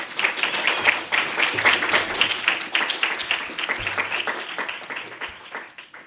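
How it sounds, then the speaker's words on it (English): A debate audience at a student government presidential debate claps steadily for about six seconds, dense and fairly loud, with the applause slowly thinning toward the end. "Can I get a round of applause for all of their hard work?"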